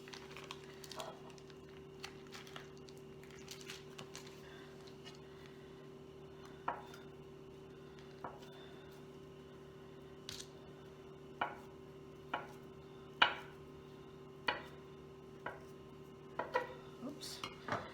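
Knife chopping ingredients for a Tuscan tortellini pasta salad, sparse single taps on a board spaced a second or two apart, quiet over a steady background hum.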